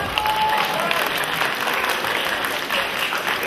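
An audience at a Shinkyokushin karate championship award ceremony in Wołomin claps steadily as a second-place finisher is announced, a loud, continuous round of applause throughout.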